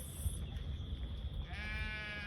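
Sheep feeding along a roadside on a farm, with one clear bleat rising near the end over a steady low background rumble.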